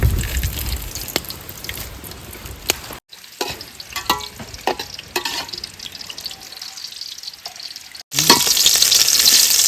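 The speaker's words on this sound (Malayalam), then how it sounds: "നമുക്ക് കുറച്ച് വെളിച്ചെണ്ണ ഒഴിച്ചു കൊടുക്കാം" Coconut oil poured into a pan for tuna-head curry sputters and sizzles loudly up close, a dense crackling hiss with brief breaks and a surge of bright frying noise near the end.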